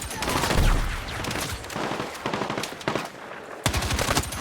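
Hipfire from a TR-7 rifle in a video game, a fast continuous rattle of close, loud automatic shots that runs almost without pause, with a short break near the end before firing resumes.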